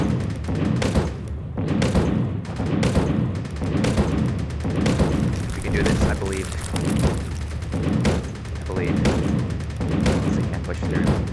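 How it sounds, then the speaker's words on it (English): Turrets fire at enemies in the space game Fortified, a rapid string of loud, repeated booming shots at a regular pulse, while a player keeps talking over the gunfire. "The turrets are putting in the work."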